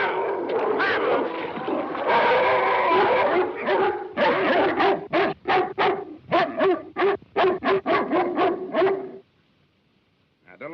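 A dog barks and whimpers in an old 1935 film soundtrack, starting with a long stretch of agitated yelps and whines, then a rapid run of sharp, separate barks before falling silent.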